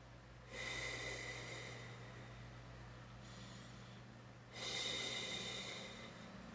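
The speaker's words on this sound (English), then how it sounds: "I'm just breathing, y'all. Breathing my way through everything" Slow, deep breathing close to the microphone, with two long airy inhales or exhales separated by a quieter stretch, heard alone over a low steady hum.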